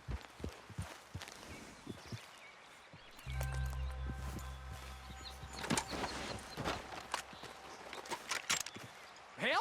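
Horse hooves clip-clop on the ground in Red Dead Online, a quiet, steady walking rhythm of hoofbeats with some scuffing steps, fairly near, without speech.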